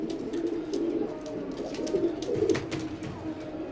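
A newly adult pair of imported Teddy pigeons of Omani bloodline coos in low, rolling murmurs, steady and close, with light rustling and no voices.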